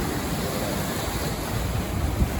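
Sea surf washing onto a beach beside a newly built seaside restaurant, a steady broadband roar with low rumbling swells and some wind buffeting the microphone, no voices.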